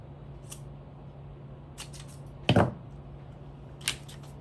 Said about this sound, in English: And then I can cut this flower.